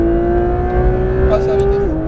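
A Porsche 992 GT3 RS accelerates hard on the Fontenay-le-Comte circuit, a loud steady engine drone rising in pitch before a gear change, heard from close by with an instructor talking over it.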